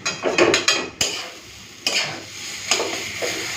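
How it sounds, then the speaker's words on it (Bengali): Green banana peel paste fries in a pan over low gas. Repeated spatula scrapes and taps on the pan rise over a steady soft sizzle. "গ্যাসটা কমিয়ে কমিয়ে এই বাটাটাকে আমি ভাজা করছি"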